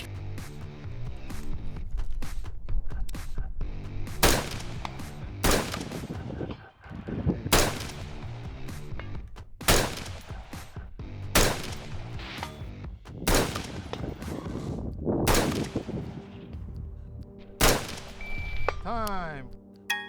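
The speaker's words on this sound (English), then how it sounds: "The shooter will have 30 seconds to hit as many targets as possible, starting from near to far and cycling through again in that order." Rifle shots fired at long-range steel targets during a timed stage ring out as sharp, loud cracks at irregular intervals, each trailed by a rolling echo, with a few more rapid shots among them.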